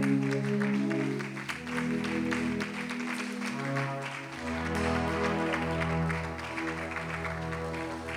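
A church congregation claps and acclaims Jesus during a worship service, a dense wash of applause running under sustained musical tones for several seconds.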